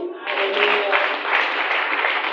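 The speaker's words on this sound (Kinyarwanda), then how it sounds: "Komera Imana amashyi." Church worshippers clap in praise of God, a dense, steady round of applause that follows a brief voice at the start and continues to the end.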